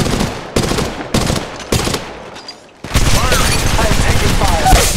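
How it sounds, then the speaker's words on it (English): Gunfire in the mobile shooter game Apex Legends Mobile: a few loud, spaced single shots, then a dense sustained burst of rapid automatic fire, close and loud. "I am taking fire."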